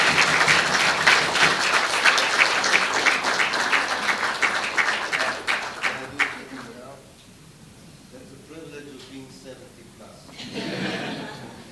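An audience at a Nakba Day seminar in Bangkok gives warm applause welcoming a professor, a dense burst of clapping that fades after several seconds, followed by someone speaking and a brief chuckle from the crowd.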